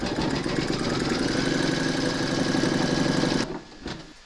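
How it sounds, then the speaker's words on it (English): An embroidery machine stitching the outline of an appliqué hat band on a hooped piece, a loud close steady rapid needle chatter that runs for several seconds and then stops abruptly, leaving a quiet tail. "Pop your hoop into your machine and stitch round number 6 to secure it."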